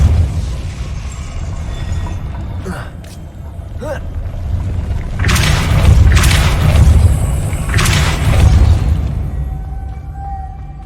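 A Depulso force spell in Hogwarts Legacy lands with a deep booming blast that swells and rumbles for several seconds, preceded by a few short whooshing casts and a spoken voice.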